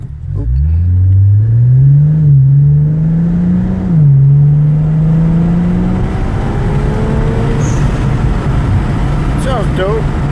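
An Infiniti Q60 fitted with an HKS blow-off valve pulls away from a standstill on a quiet county back road, the engine rising loudly and steadily through the revs, ending with a brief whooshing release near the end of the run.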